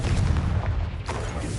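A Confringo explosion spell going off in the Hogwarts Legacy video game, a dense rumbling boom with a bright burst about a second in, loud and close, with no voices.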